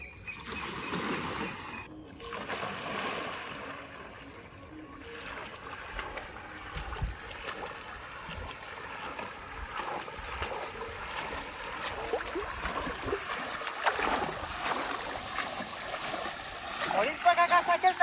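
An amphibious bicycle moving through water, with steady splashing and sloshing close by that grows somewhat louder toward the end, and brief voices heard underneath.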